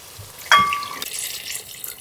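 Water pours into a pot of mutton biryani, a sudden splashing gush that settles into a steady close-up running and bubbling sound for a couple of seconds.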